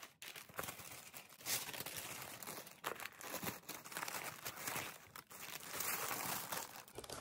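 Crinkly wrapping paper from a Chanel package being unwrapped, steady crumpling and rustling close to the mic for several seconds, fairly quiet with no talking.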